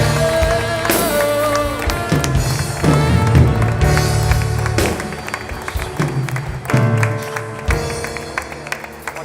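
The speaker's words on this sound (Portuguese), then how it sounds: "Fique em pé e aplauda bem forte ao Senhor nesse momento." A church congregation standing and applauding loudly during a Portuguese-language worship service, dense sustained clapping mixed with music and crowd noise throughout.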